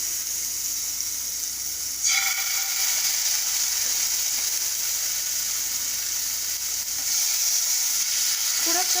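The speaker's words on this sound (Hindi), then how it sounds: "अब इस टाइम मैं जिंजर गार्लिक पेस्ट डालूंगी।" Ginger garlic paste sizzles steadily in a hot pan with oil, a continuous close frying hiss that swells louder around the moment the paste goes in and again near the end, with no talking over it.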